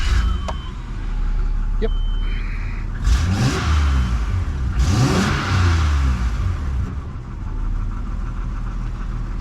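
A Nissan Pathfinder WD21 engine turns over, catches and revs in two loud surges before settling into a steady idle, with a brief spoken word near the start.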